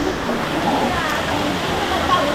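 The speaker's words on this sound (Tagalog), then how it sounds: "andito na kami sa falls and ito yung falls" Kilangin Falls in Laguna sends a steady, broad rush of falling water, loud and continuous throughout.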